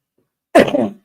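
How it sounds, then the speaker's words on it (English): One short, close cough bursts out of silence and then fades quickly. "Excuse me for coughing."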